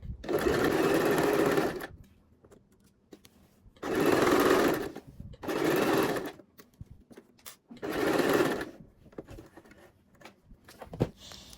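Sewing machine running long loose basting stitches on men's trousers, four bursts of rapid mechanical whirring, each one to two seconds long, separated by quiet pauses with faint handling clicks, close by.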